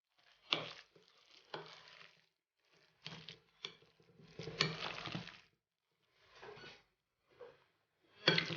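Intermittent stirring and scraping of carrot fritter batter in a bowl, several short bursts with pauses between, fairly quiet and close, with no talking.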